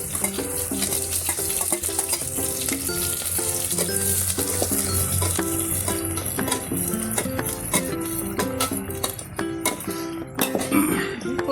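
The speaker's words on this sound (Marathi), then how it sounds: "ते आता थोडंसं लाल होईस्तोवर परतून घ्यायचे।" Onion, garlic, coriander and mint are sautéed in mutton fat on a wood-fired stove, giving a continuous sizzle and scraping stirs over steady background music.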